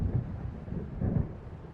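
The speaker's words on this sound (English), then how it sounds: "It seems there's a storm coming." Low, rolling thunder rumbles from an approaching storm in the video game Alan Wake, two swells of distant booming over a steady dark background with no voices.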